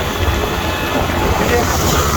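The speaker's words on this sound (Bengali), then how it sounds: "উপর দিয়ে মেট্রো রেল যাচ্ছে" A steady, loud rumbling roar of a metro rail train running close by overhead in Dhaka, continuous with a faint hiss over it.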